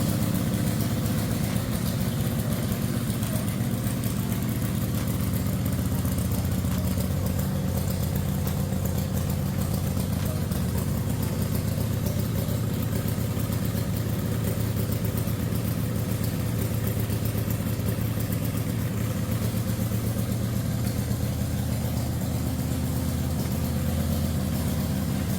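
A 2007 Black Label custom chopper motorcycle idles with a steady, deep, throbbing engine rumble, constant and close for the whole stretch, with no talking over it.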